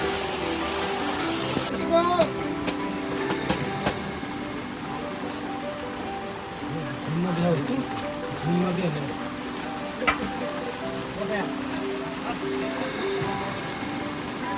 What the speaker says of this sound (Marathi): भर पावसात.